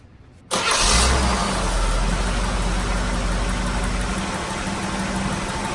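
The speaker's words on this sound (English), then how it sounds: "it's been idling for a few, and you can still kind of hear that tick" A Trans Am's engine cranks and catches with a burst, then settles into a steady, close idle hum with a faint tick.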